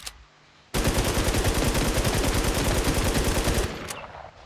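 Sustained burst of automatic fire from an AK-74M Thunder rifle in the shooter game Infestation, rapid evenly spaced shots rattling loud and close for about three seconds after a quiet start, then cutting off with a short tail.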